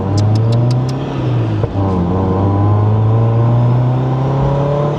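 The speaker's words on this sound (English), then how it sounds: "Can you hear that supercharger?" A supercharged Mazda MX-5 NC with a BBR kit revs loudly and steadily, its engine drone holding close and strong, with a short dip in pitch midway and a high supercharger whine running alongside.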